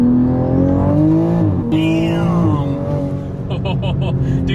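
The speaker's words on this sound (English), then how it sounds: "you hear the blow-off valve?" 2020 Toyota Supra with a big aftermarket turbo pulling hard on the street, engine note rising and falling through gears with a brief sharp hiss as the blow-off valve vents, loud and close with voices over it.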